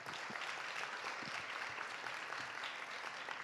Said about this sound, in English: a round of applause for everyone